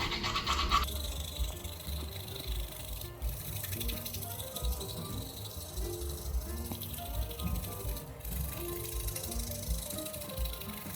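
A toothbrush scrubs teeth with a steady wet, fizzy bristle scratching that continues throughout, close and even, with little talk over it.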